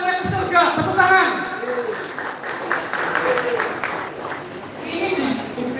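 Applause from an audience at a business thanksgiving and soft-launch event, a broad steady patter under talk for most of the stretch, with a voice speaking over it near the start.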